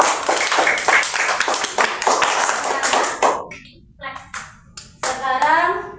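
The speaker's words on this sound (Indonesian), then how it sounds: "Oke, tepuk tangan untuk kita semua." A classroom of sixth-grade children clapping together in brisk, loud bursts for about three seconds, then scattered lighter claps and taps as children's voices chatter and call out.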